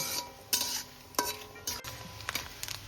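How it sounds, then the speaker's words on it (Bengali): Grated coconut frying with tempering spices in a pan, a soft steady sizzle broken by several sharp scraping strokes of a spatula against the metal. "এবার আমি ফোড়নের সাথে নারকেলটাকে একটু লাল লাল করে ভেজে নেব"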